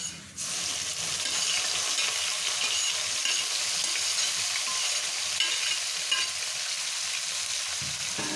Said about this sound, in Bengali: এই পর্যায়ে সেদ্ধ করে রাখা শাকগুলো দিয়ে নেব।